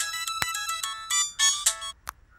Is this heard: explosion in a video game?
no